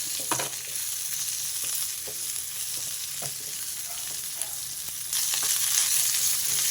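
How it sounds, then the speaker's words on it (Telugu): Cumin seeds and coriander frying with onions in a pan make a steady close sizzle and hiss, with occasional stirring scrapes, swelling louder near the end, no talking. "ఒక స్పూన్ అంత జీలకర్ర ఒక రెండు స్పూన్లన్నీ ధనియాలు ఈ మసాలా అంతా కూడా బాగా వేగాలి"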